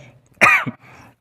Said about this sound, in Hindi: आज फिर से खांसी हो रही है।